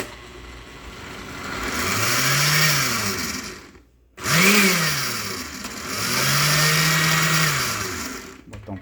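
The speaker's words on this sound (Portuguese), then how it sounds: "estamos colocando um liquidificador, vamos bater um pouquinho" A kitchen blender purees blackberries for jam, revving up in two long loud bursts with a short stop between, the motor pitch rising and falling as it runs.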